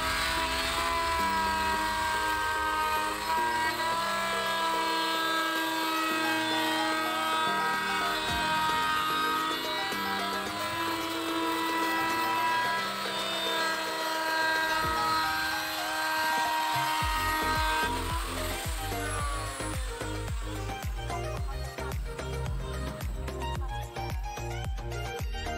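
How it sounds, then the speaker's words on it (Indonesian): Electric router profiling a wooden window frame, a loud continuous high-pitched whine with steady tones that shift and drop pitch near the end, alone without talk. "kita profil ataupun kita loter untuk korsen jendela yang kita buat"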